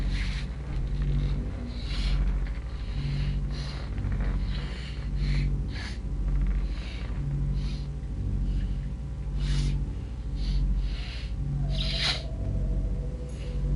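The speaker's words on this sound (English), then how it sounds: "Sorry for all the sniffling." Someone sniffles repeatedly in short nasal snorts close to the microphone, scattered over a steady background hum.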